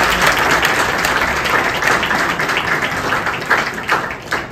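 A crowd at a Republic Day free health checkup event claps loudly and steadily for several seconds, a dense wash of many hands close by with a few sharper individual claps toward the end.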